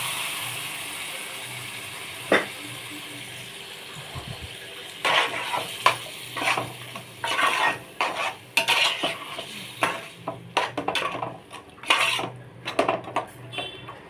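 Rajma beans tipped into a pan for rajma curry and stirred, with a steady low background hiss and a run of clattering spoon-on-pan scrapes and knocks that grow busier toward the end; no talking.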